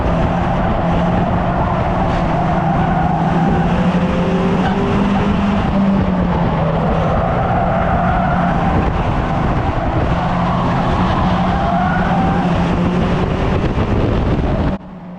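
Stock cars race closely at Cowdenbeath Racewall, engines roaring loud and continuous with shifting pitch as they battle for position, tyres scrubbing and wind buffeting the microphone.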